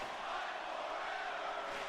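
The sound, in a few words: wrestling crowd cheering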